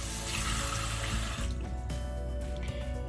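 Tap water runs into a sink to wet a makeup brush, a close, steady splashing rush whose texture changes midway as the brush is held under the stream, with no talk.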